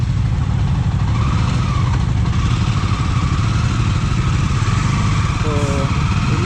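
Four motorcycles run together before setting out on a group ride from Bangalore to Valparai, giving a loud, continuous engine rumble with no clear break throughout.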